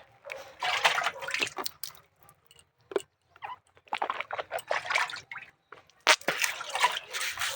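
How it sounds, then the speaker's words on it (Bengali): Cold water is splashed onto a face during a morning wash. Close, irregular splashes and drips come in clusters with short pauses between them. "কি ঠান্ডা বাবা মুখটা ধুয়ে নি আগে বাবা তো ঠান্ডা জল"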